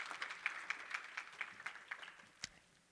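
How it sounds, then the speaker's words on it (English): Sparse, light clapping from a few people at a conference session, a handful of separate claps spread over a few seconds, fairly quiet and fading toward the end. "a round of applause for them"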